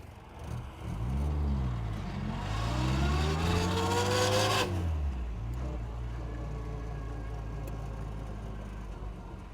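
A 1960 Bugeye Sprite pulls away in second gear, its small engine revving up in a rising, buzzy drone that peaks and drops as the car settles into a steady, lower hum nearby.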